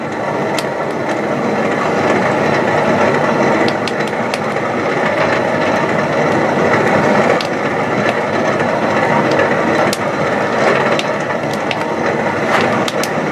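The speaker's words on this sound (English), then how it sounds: "Start up the blower again." A blacksmith's forge blower runs continuously in a loud, steady roar with dense broadband rumble, punctuated by scattered sharp clicks and knocks, with no talking.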